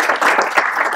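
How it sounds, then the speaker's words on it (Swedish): Brief burst of warm applause from a seminar audience in Falköping welcoming a Chalmers energy-systems professor to the stage, dense steady clapping throughout the short moment. "Varm applåd tycker jag."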